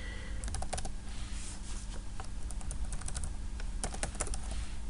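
Typing on a computer keyboard: a close, steady stream of quick clicking keystrokes over a constant fan hum, with no voices.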